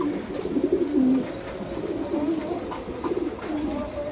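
Top-quality Lahori pigeons at a loft, a pair of grey-coloured male and female, giving low throaty coos close by, repeated in short rolling bursts.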